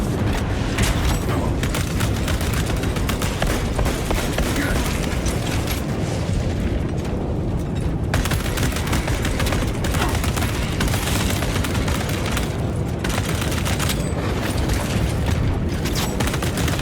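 Sustained rapid automatic fire from a tactical auto bolt rifle with Kraken penetrator rounds in a video game, a dense, loud, continuous barrage of booming shots and explosions running almost without pause.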